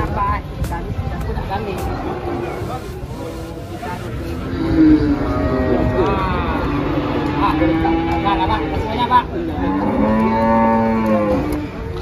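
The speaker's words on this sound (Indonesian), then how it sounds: "di los yang ini khusus untuk kerbau teman" Water buffalo at a crowded livestock market lowing loudly several times, the deep moos rising over a steady babble of bargaining voices and nearby talk.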